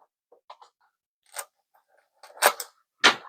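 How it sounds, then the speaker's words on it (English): Small scissors snip through the plastic packaging of a budget Logitech keyboard and mouse set, giving a few sharp, close cuts and crunches spaced apart, the last two louder and fuller. "let's grab some scissors to open this."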